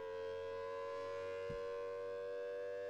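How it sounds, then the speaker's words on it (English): Tornado siren wailing in a Dallas County roleplay video game, a steady, droning civil-defense tone holding level throughout at moderate distance, with a brief thump partway through and no talk. "Why are the tornado sirens going off?"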